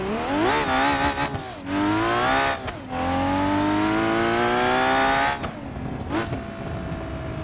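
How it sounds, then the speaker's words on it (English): A simulated car engine in BeamNG.drive revs hard while the clutch is slipped, its rising, wavering harmonic pitch climbing in long loud pulls with brief dips between, in a Roadkill project build. "Let me just try to slip the clutch a little more."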